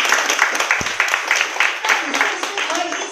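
An audience at a talk clapping for themselves: a dense, rhythmic patter of hand claps that runs throughout, fairly loud and close, with a voice over it.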